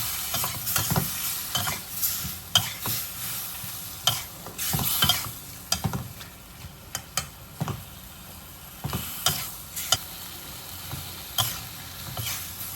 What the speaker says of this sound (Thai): ตอนนี้ก็ผัดให้เห็ดหูหนูสุกนะฮะ